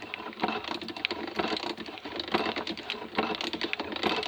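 A metalworking station shear mechanism is turned over by hand, giving a dense, steady clatter of small metallic clicks and rattles, close and continuous with no talk.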